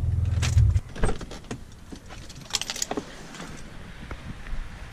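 A car's engine rumbles and then cuts out, followed by close, scattered jingling of keys and small clicks and rustles inside the vehicle.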